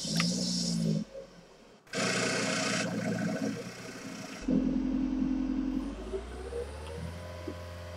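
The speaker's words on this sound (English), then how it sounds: "the 3-cylinder engine sounds like this" A small three-cylinder car engine in a video game drones in bursts, with revs rising and dropping and brief pauses between, sounding like a synthetic game car motor.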